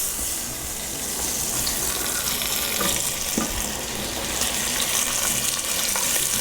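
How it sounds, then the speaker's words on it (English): Lamb pieces searing in hot olive oil in a Dutch oven or heavy pot, giving a steady, dense sizzle and crackle that runs unbroken throughout at close range, with no talking. "I am going to sear the lamb in a hot pot or Dutch oven."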